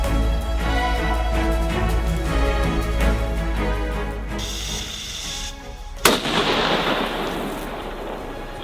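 A steady rumbling background gives way to a sudden sharp bang, followed by a crackling, hissing tail that lingers for a couple of seconds.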